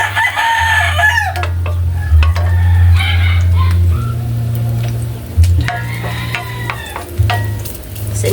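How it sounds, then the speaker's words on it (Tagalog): Onions sautéing in a hot pan for squid adobo, loud continuous sizzling with stirring and scraping of a utensil against the pan, with a rooster crowing faintly in the background. "Gisa lang po tayo ng sibuyas"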